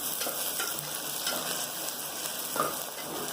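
Sliced onions and green chillies sauté in oil inside a pressure cooker for vegetable biryani, a continuous near sizzle with brief stirring scrapes and no talk.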